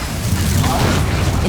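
Confringo blasting spell going off in Hogwarts Legacy, a dense low booming burst that fills the whole moment, loud and close with continuous rumble.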